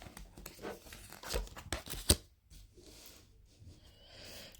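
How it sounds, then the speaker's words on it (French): Playing cards are handled and drawn from a deck up close, with soft rustling and sliding, a sharp snap partway through, then quieter shuffling and brushing. "Je prends 5 cartes."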